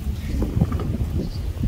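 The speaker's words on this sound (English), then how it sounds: "It's extremely windy." Strong wind at a remote off-grid coastal campsite in Western Australia buffets the microphone with a continuous low rumble and gusty roar, heard close and loud with no one speaking.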